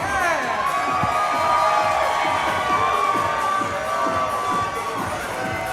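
Wrestling fans in Wise Hall cheer and whoop for Nick Pesky, a dense, steady roar of crowd noise with children's shouts mixed in, loud and sustained throughout.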